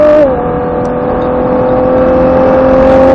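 A Nissan Skyline GTR on a racetrack holds a steady, loud engine drone after a brief pitch drop near the start, as at a gear change, then pulls evenly at high revs, close to the car.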